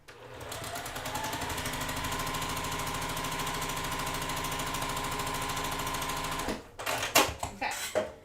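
Sewing machine stitching a seam with a quarter-inch foot while piecing quilt blocks, a steady rapid mechanical whir-and-tap running evenly for several seconds, then stopping, followed by a few sharp handling clicks and rustles nearby.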